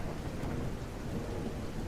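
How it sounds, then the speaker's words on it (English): Heavy rainfall in the mouse city-building game Whiskerwood, a dense, steady hiss of rain with a low rumbling undertone, faint and continuous without voices. "We got a rainy, heavy rain fall here in year 4."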